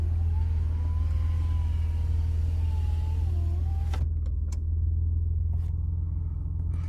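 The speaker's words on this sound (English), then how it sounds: "So you press it down and the driver's side is fully automatic, but it doesn't do an automatic up, which is annoying." Electric power window motor of a 2001 Mitsubishi Magna Si running as the glass travels, a steady whine over a low idling engine rumble, stopping partway with a few faint clicks afterward.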